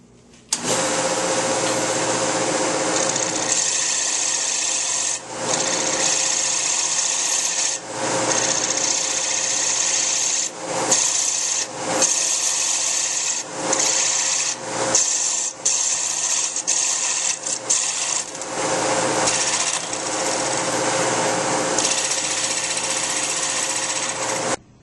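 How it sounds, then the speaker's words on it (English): A wood lathe parts off a small wooden Christmas ornament ring, a loud continuous rasping, scraping cut with a steady motor hum, broken by brief pauses and repeated tool contacts throughout. "now I'm going to part this little ring off."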